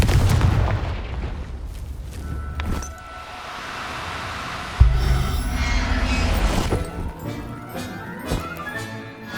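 A Confringo blasting spell from Hogwarts Legacy erupts in a loud, booming burst with rumbling low-end impacts and a second explosive hit midway, over steady game ambience.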